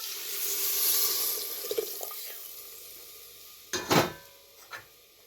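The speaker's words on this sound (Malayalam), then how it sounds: "വെള്ളം പിഴിഞ്ഞു വെച്ചത് ഒഴിക്കാം." Squeezed tamarind water is poured into a pan of okra curry for a second or so, followed by a few sharp metallic clinks and clatters of cookware.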